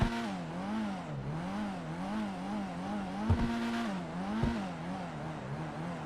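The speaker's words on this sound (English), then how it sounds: "As for the way the vehicle sounds," Engine of the BF Club car in GTA 5 Online, a steady, close, buzzy drone whose pitch rises and falls in repeated gentle revs, with two brief thumps partway through and no talking.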